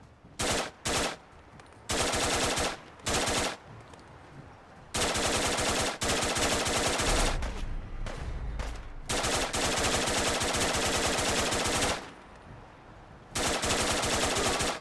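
Enemy gunfire in the Fallout 4 video game crackles in long, loud automatic bursts separated by short gaps, with a few quick single shots at the start; no talking.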